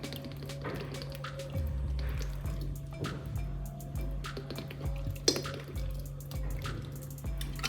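Sesame oil poured into a container, about a litre in all, with a close steady liquid glug and trickle over a low hum and a few soft knocks, no talking.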